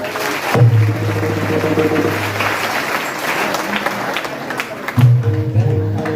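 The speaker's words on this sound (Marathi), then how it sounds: "ज्यांनी भजन केले त्यांनी शेजारच्यासाठी एकदा जोरदार टाळ्या वाजवा." Audience applause at a Marathi kirtan, a dense wash of clapping that holds steady for several seconds alongside sustained musical tones that fade in and out.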